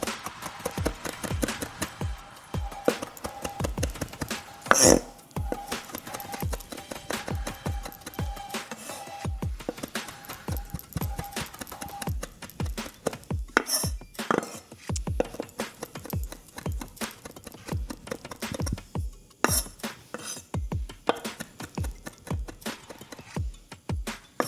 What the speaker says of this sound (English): let's chop this up and see if we feel like this is enough